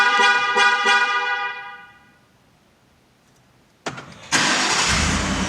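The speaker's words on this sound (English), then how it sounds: "you should hit the button 3 times and the truck should start" A series of rising electronic beeps fades out, then after a pause a Ford F-150 pickup's engine cranks and roars to life via remote start, settling into a loud, steady idle.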